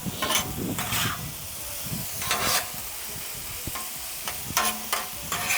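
Peppers, onions and mushrooms fry on a flat griddle for cheesesteak, steady sizzling broken by several bursts of scraping and stirring from a spatula, close and loud, with no talk.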